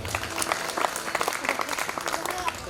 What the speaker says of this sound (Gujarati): બધાને જોરદાર તાળીઓના નાદ સાથે વધાવો